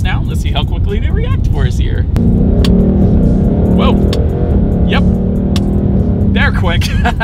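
Engine of a 2020 Ford Mustang GT revving during a paddle-shift test, loud and close with a steady drone rising through gears, while people talk over it at the start and end.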